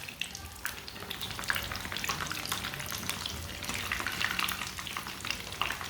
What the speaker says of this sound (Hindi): एक मिनट तक एक साइड से पका लिया मैंने। आप इसे उल्टा लेते हैं।